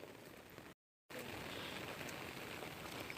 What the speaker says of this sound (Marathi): तुम्ही बघू शकता किती पाऊस आहे आणि एवढं पाणी साचलंय.